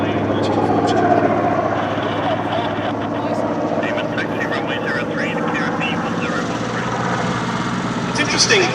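A Grumman Wildcat and a Goodyear FG-1D Corsair fly at the Shuttleworth Fly Navy airshow, their piston engines making a loud, steady drone that fills the whole stretch with a continuous rumble.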